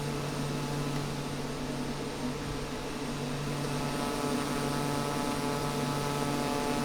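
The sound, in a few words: Pilatus PC-12 engine during takeoff in MSFS 2024 video game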